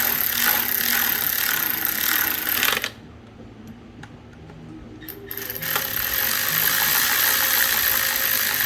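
A hand ratchet clicks steadily while tightening spark plugs on a 2012 Cadillac SRX4 3.6L engine, close and fairly loud, with a short quiet gap in the middle before the clicking resumes.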